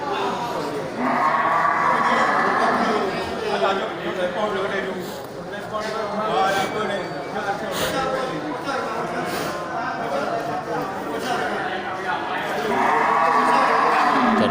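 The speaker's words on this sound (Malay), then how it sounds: "Ya, ini juga kerbau jantan besar ya." A big bull buffalo at a livestock trader's yard lets out two moderately loud moos, one near the start and one near the end, over a continuous murmur of voices and pen noise.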